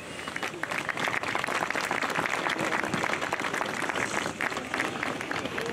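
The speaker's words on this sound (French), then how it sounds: "Vous pouvez applaudir Christian Estrosi" An audience applauds Christian Estrosi at the inauguration of the FIS ski slope at Isola 2000, a dense, steady wash of clapping from a sizable crowd lasting several seconds.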